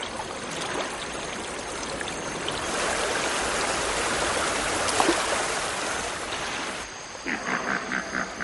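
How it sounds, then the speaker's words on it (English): A small African river flows past in a continuous rushing babble that swells slightly midway, then gives way near the end to lighter, broken trickling. "This one is setting off down a small river in Africa."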